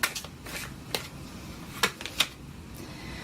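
Tarot cards are drawn and handled from a deck, giving several soft, quick papery snaps and slides close by, with sharper flicks near the start and around the middle, against a quiet room.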